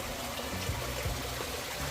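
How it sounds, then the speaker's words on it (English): Warm spring water flowing out from under big rocks at Zeebedee Springs in El Questro Gorge, a close, steady trickling and gurgling stream with a few soft splashes and no voices. "So all this warm water, it all just comes out of the ground underneath these rocks."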